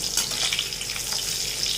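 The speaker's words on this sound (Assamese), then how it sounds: "তেল গৰম হোৱাৰ লগে লগে ইয়াতে বেঙেনাখিনি ভাজি লৈছোঁ" Brinjal pieces frying in a generous amount of hot oil in a wok, giving a loud, close, continuous sizzling hiss without pause.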